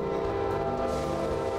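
Amtrak's northbound Silver Meteor passenger train arriving at the Deland depot, a loud sustained chord of horn tones over a steady rumble, close and continuous throughout.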